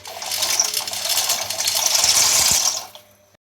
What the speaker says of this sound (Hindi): जब पानी गर्म हो जाए तो इसमें ये पास्ता डाल दें